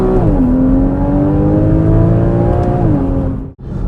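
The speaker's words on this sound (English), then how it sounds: "I love that flat six. It sounds great with the Sport exhaust in Sport Plus mode" A 2015 Porsche Cayman S flat-six with sport exhaust in Sport Plus mode revs loud and close, a sustained rising and falling engine note that drops off sharply near the end.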